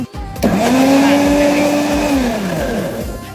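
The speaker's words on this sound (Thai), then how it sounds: "ปั่นได้สบายสมูทตี้กันค่ะ" Blender whirring as it blends melon, strawberry, milk and coffee into a smoothie, starting abruptly with a loud steady motor whine that sags slightly in pitch, close and continuous.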